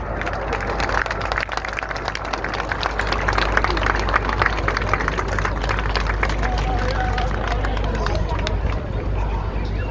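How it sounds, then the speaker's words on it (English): An outdoor crowd at a Red Arrows air display on Armed Forces Day in Scarborough claps in a dense, continuous ripple of applause, mixed with murmuring voices throughout. "give the synchro pair a round of applause"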